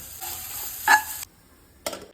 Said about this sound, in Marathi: चारच पदार्थांची फोडणी करायची मोहरी हिंग हळद कढीलिंब डाळ